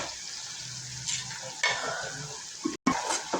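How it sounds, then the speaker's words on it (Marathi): Chili powder and onion frying in oil on low heat for egg bhurji, a steady close sizzle with stirring scrapes and a brief break near the end. "मिरची पावडर सर्वात आधी मस्त परतून घेऊ."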